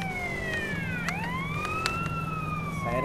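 A police car siren in a video game wails up and down continuously, loud and close, its pitch sweeping in smooth rising and falling cycles over a low engine hum.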